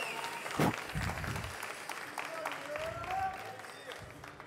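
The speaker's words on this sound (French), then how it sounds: "un tonnerre d'applaudissements pour Nir, s'il vous plaît," Audience applause for Nir at a French competition final, clapping that swells and fades in a few short bursts, mixed with someone speaking.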